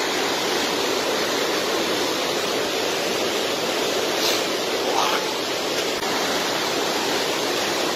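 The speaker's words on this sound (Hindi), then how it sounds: "पानी बहुत बड़ा है, वो पानी बहुत हैवी है।" Heavy water of a large river rushing in a remote border area, a loud constant broadband roar with no letup, close and filling the whole scene.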